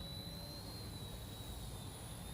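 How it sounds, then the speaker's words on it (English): A steady high-pitched motor whine with a constant rushing drone from an Eachine Sentry toy RC military helicopter hovering nearby. "So you can bank this helicopter because it flies like a quad."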